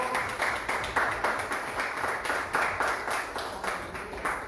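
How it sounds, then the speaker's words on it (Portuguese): A church congregation claps in a steady, rhythmic beat, evenly spaced claps continuing without pause, moderately loud and slightly reverberant as in a hall. "Vamos dar um aplauso ao Senhor."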